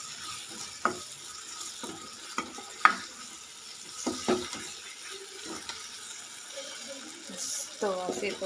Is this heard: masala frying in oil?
yes